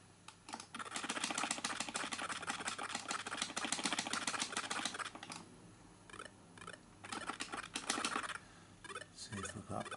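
Computer keyboard keys pressed rapidly during play of the Green Beret arcade game, a dense run of close clicking taps for several seconds, then sparser bursts of keystrokes.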